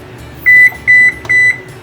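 An oven control panel gives three clear electronic beeps, evenly spaced and loud, as it is set to broil in a home kitchen.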